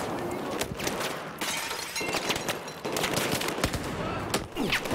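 Video game gunfire in Battlefield 4, bursts of rapid automatic shots with sharp cracks and breaking debris, loud and close, broken by short pauses, with some speech mixed in.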